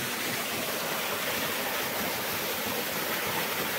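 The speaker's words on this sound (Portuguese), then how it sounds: "Aí, ó, cachoeirinha." A small waterfall cascades steadily nearby, a continuous loud broadband rush of falling water with no voices over it.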